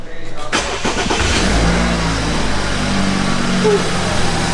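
A BMW F30 sedan, rebuilt after being wrecked, cranks and catches, then settles into a steady, fairly loud idle with a faint rumble, running smoothly close by.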